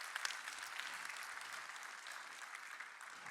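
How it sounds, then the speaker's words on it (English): Audience clapping at an opening keynote during Atlas Camp 2023, a moderate, even patter of many hands heard from a distance, holding steady throughout without cheers. "which is worth a round of applause."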